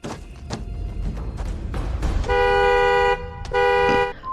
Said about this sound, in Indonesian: Tedo pun membunyikan klakson mobilnya sebagai tanda peringatan.